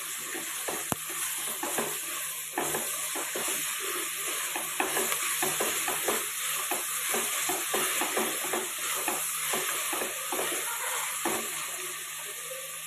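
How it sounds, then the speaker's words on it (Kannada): Fenugreek leaves frying in oil for a pulao, a steady close hiss and crackle with regular scraping strokes of a spatula stirring the greens around the pan, continuous with no talking. "ಇವಾಗ ನಾನು ಮೆಂತ್ಯ ಸೊಪ್ಪು ಹಾಕೋತಾ ಇದ್ದೀನಿ. ಇದನ್ನು ಚೆನ್ನಾಗಿ ಆಯಿಲಲ್ಲಿ ಫ್ರೈ ಮಾಡಬೇಕು."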